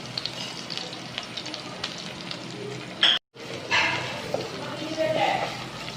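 Crushed spices with turmeric and coriander sizzle steadily in a tablespoon of coconut oil for a Kerala fish curry, a soft continuous frying hiss with a brief dropout, heard beneath someone talking.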